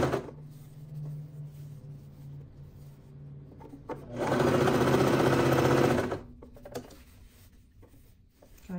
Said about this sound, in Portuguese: vai costurando e puxando